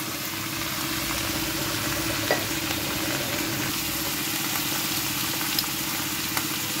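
Food frying in a pan on medium-low heat gives a dense, steady sizzle with a constant low hum underneath and a few faint clicks, with no talk.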